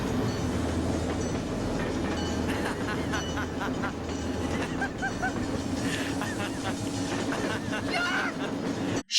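A train rumbles past in the movie Cry Baby Lane, a loud, steady roar with rhythmic clacking of the wheels and a horn-like honk, continuing for several seconds before cutting off abruptly.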